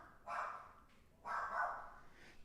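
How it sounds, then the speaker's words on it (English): Two separate barks from the speaker's mother's dog, each a short bright woof about a second apart, heard at moderate distance over a quiet room with no talking. "That is my mother's dog."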